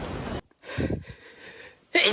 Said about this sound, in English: A triple A sneeze.